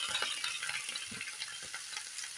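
Cut vegetables hitting hot oil in a pan for a vegetarian pumpkin bori dish, with a steady sizzle and occasional stirring scrapes, close and fairly quiet.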